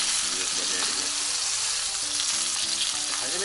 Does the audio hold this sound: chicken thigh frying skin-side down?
yes